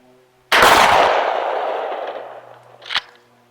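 A 12 gauge shotgun fires a slug outdoors at long range: one sharp, loud blast that rolls off into a long decaying echo, followed about two and a half seconds later by a brief distant crack.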